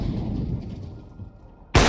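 A sniper rifle shot in Counter-Strike during a grand final esports match, a single sharp loud blast cutting in suddenly after a steady low rumble of in-game ambience.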